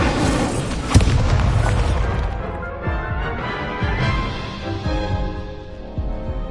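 A booming fire spell blast from Hogwarts Legacy, Incendio, hits with a sharp impact, then a roaring, crackling burst rolls on and fades, with a few smaller thuds following in the game scene.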